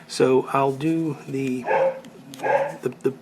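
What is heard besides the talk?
dog barking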